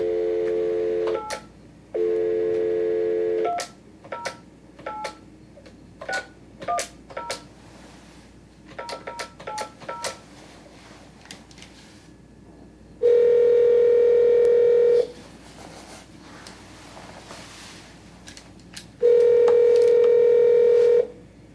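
A landline call is placed: a string of touch-tone keypad beeps in irregular bursts, followed by long steady ringback tones with pauses between them, clear and close with no voices.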